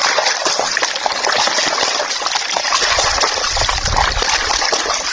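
Running water pours and splashes steadily as raw chicken is rinsed for a chicken stew, a continuous close gush with irregular splatter throughout.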